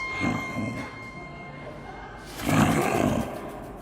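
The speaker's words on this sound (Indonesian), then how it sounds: "Singa marah dan ketakutan sambil mengaum dengan keras" A lion roars loudly in two bursts, a shorter one at first and a longer, stronger one later, with no other sound around them.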